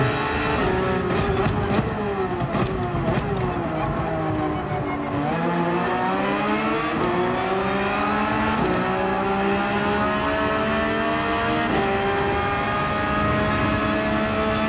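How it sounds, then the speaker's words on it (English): Several cars drag racing side by side in Gran Turismo 7 at Laguna Seca, engines roaring loudly and continuously with rising and falling revs through gear shifts, layered engine notes filling the whole stretch. "Tila Teets and I are just drag racing down this section"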